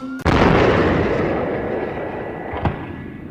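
A single loud, booming explosion erupts suddenly and rumbles on as it slowly fades, followed by a faint crack a couple of seconds later.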